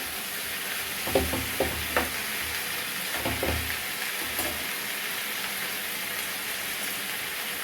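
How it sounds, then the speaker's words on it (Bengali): Bottle gourd greens cooking in a pan give a soft continuous sizzle, with clusters of spoon-stirring knocks and scrapes near the start and middle, close up with no talking. "এটা থেকে হালকা হালকা জল বেরোনো শুরু করেছে একটুখানি নাড়িয়ে দেবো"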